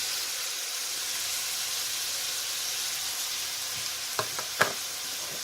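Tempeh fries in a pan with a steady, hissing sizzle, close and fairly quiet, punctuated near the end by a couple of brief sharp taps from a utensil.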